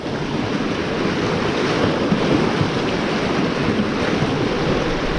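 Sea waves wash against a rocky shore with big boulders, a loud continuous surf roar mixed with gusty wind buffeting the microphone.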